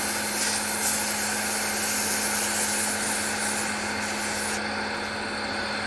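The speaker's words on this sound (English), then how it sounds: "we're going to hit it real quick with some sandpaper" A wooden light-bulb ornament spinning on a lathe is sanded with 150-grit sandpaper, giving a steady, close, continuous rubbing hiss over the lathe motor's constant hum, easing slightly near the end.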